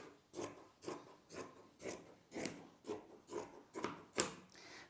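Scissors snip through fabric rags in a steady series of about nine crisp, close cuts, evenly spaced with short pauses between.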